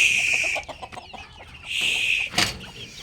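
Free-range country chickens in a small backyard flock of around 22 birds cluck and call in short bursts, fairly close, with a louder squawk near the end and no talking.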